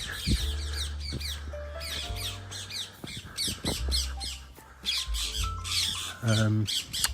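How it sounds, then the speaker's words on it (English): Distressed birds squawking loudly and close on a city walk near Wimbledon and Streatham, with harsh repeated calls in bursts over a low background hum. "I think those birds are a bit distressed"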